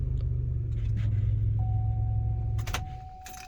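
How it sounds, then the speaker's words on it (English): A car key turns in the ignition to the on position with a brief metallic jangle and clicks over a steady low rumble, followed by a thin electronic tone as the dash powers up. "put the key in ignition, turn it to the on position"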